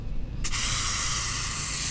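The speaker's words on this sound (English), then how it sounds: "blood began spraying from each of the runes on her body like water shooting from a fire hose" Blood sprays out in the horror game Corpse Party: Book of Shadows, a loud, sudden burst of hissing spray that cuts in after half a second and then holds steady and dense to the end, with no talk.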